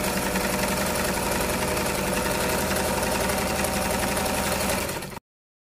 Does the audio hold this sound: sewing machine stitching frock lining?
yes